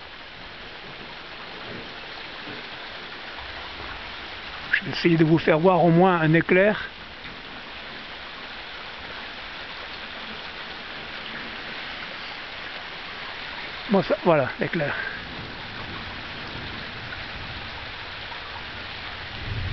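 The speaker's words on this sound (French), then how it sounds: "Peut-être on entendra vaguement la pluie." Steady rain falls at night during an orange storm alert, a constant soft hiss of moderate level running throughout, with someone speaking quietly over it in two short bursts.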